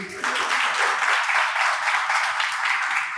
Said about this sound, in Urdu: تالیاں بجائیں ان کے لیے دل سے.